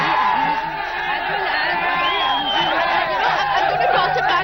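A protest crowd over the Jallikattu ban in Tamil Nadu grows unruly, with loud, dense shouting, whoops and jeering voices overlapping continuously nearby.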